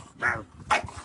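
A dog chasing the shadow of a hand gives two short, loud barks close by, the second higher and sharper, with no one talking.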